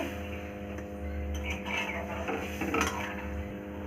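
A spoon stirs boiled mung dal, cooked plain without salt or turmeric, in a metal pot, making soft scraping and clinking against the pot under a steady low background hum.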